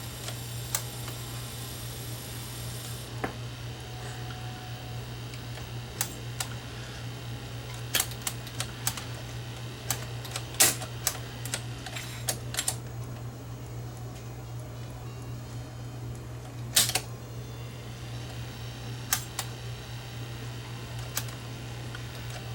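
Buttons on a 1958 Philips EL3516 tube tape recorder clack and click, one at a time and at uneven intervals, over a steady low mains hum from the machine.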